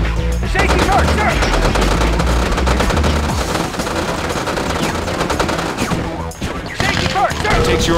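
Infantry gunfire at a derelict American Grizzly battle tank in Red Alert 2: loud, dense volleys of rapid gunshots and bursts running nearly the whole time, with brief thuds and a short lull near the end.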